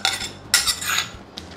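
Tempered rice mixed with a spoon in a bowl or pan, a few bright metallic scrapes and clinks in quick bursts, close and fairly loud, with no talking.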